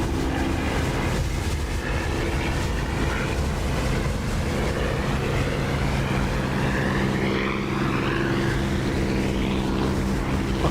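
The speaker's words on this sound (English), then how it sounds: "Santa, if you're listening to that engine with the canopy open" A propeller aircraft engine drones loudly and steadily with the canopy open in the DCS flight simulator, a constant close roar with a sustained tonal hum and shifting whine.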